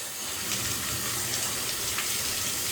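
Hot water runs from a shower faucet just fitted with a new cartridge, a steady, loud hiss of spray that continues unbroken with no talking.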